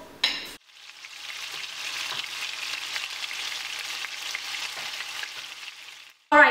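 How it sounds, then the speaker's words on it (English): Burger patties sizzle in a skillet with coconut oil, a steady, close frying hiss that holds evenly for several seconds between brief louder knocks at the start and end. "Then we're just gonna take it to the skillet and grill these with a little bit of coconut oil"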